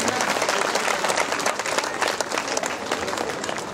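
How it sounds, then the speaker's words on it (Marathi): An audience at a Dhamma gathering applauds to welcome donors, with dense, sustained clapping from many hands filling the space evenly and loudly. "सर्वांनी टाळ्यांचा गजरा देत या ठिकाणी स्वागत करा"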